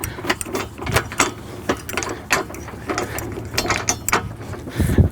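A threaded adjuster being screwed in on a scrape blade gauge wheel, giving close, loud mechanical clicks and ratcheting turns in uneven bursts with short pauses between them.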